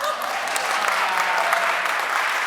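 Steady audience applause at a theatre talk event, many hands clapping continuously and fairly loud, with no speech over it.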